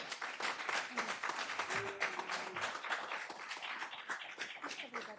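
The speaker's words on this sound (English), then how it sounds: "How about a round of applause for?" Audience at a community speaker-series talk gives a round of applause: dense, close clapping sustained for several seconds, with a few voices mixed in.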